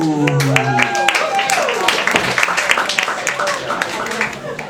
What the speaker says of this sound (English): Let's have another big round of applause for our next act, Kyle Colorado.